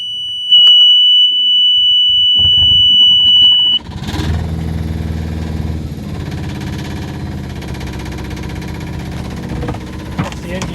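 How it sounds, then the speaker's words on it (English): Outboard boat engine started in neutral with the kill switch set: a steady, loud electronic alarm tone sounds first, then the engine catches and settles into a loud, even running rumble. "That's the engine started."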